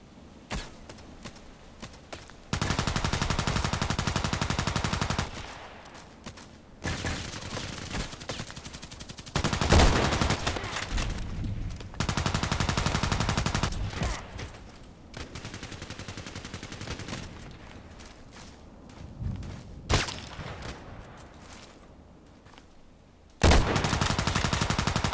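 Bursts of sniper rifle fire from an SV-98 in a video game, loud broadband blasts alternating with quieter stretches across the clip, no speech.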